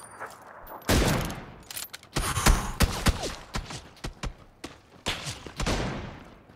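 Gunfire in PUBG, several bursts of shots with sharp reports spread across a few seconds, some loud and close, others trailing into quieter cracks.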